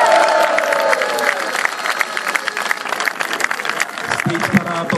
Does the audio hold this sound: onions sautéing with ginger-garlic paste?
no